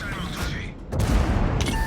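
Bursts of tank gunfire and booming explosions in a video game crash over a low rumbling engine, with a voice speaking over the noise.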